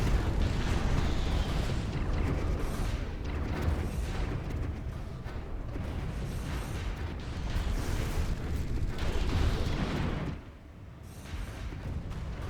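Space fleet combat in the strategy game Stellaris, with kinetic artillery, arc emitters and torpedoes striking battleships, forming a dense, continuous roar of booming weapon fire and explosions that drops off sharply near the end.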